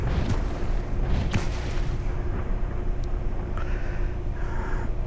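A self-propelled gun in a video game fires a shell, a heavy deep boom at the start followed by rolling echoes and a few sharper distant cracks over a constant low rumble.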